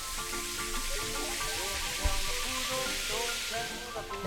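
A homemade bath bomb fizzing in a filled bath, a continuous soft crackling hiss like sizzling, heard close, with a voice talking faintly over it.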